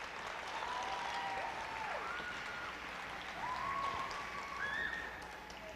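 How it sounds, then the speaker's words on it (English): Pageant audience applauding in a hall, a steady, fairly soft wash of clapping with a few whistles rising over it and no speech. "one more round of applause for our current queen and up and coming"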